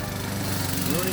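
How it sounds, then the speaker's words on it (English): A riding lawn mower engine runs steadily at close range, a continuous droning rumble with a rising whine near the end and no pauses. "Ruining another lawnmower."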